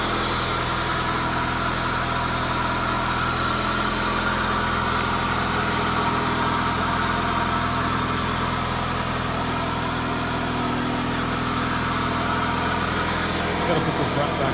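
Close by, an Evo car engine starts and then idles with a steady, rumbling drone, under a voice talking over it.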